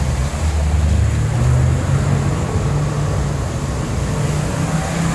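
A Peugeot 406 Safari fords water off-road, giving a loud, steady rush of churning splash over a deep engine rumble that holds throughout with no pauses.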